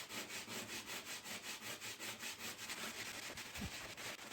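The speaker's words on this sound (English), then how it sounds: "Bit more sanding." Sandpaper rubs by hand over a wooden rainmaker tube in a rhythmic back-and-forth, roughly three strokes a second, with a soft, close scratchy texture and a brief thump near the end.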